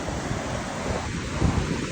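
Bersham Waterfall roaring during Storm Darragh, a dense, continuous rush of water mixed with wind buffeting the microphone, loud and close.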